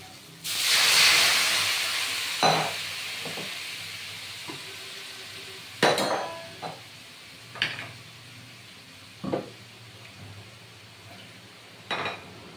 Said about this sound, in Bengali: নেড়ে চেড়ে আমি গরম জল দিয়ে দিচ্ছি